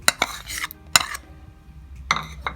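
Semolina and yogurt are stirred together in a bowl for paneer and khoya halwa, with sharp spoon clinks and scrapes against the bowl coming in irregular bursts separated by short quiet gaps.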